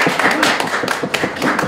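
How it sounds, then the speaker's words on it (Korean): Light, scattered clapping follows a talk at a youth seminar. It comes as a short run of sharp, uneven hand claps from a small audience and sounds fairly close. "큰 박수 부탁드리겠습니다."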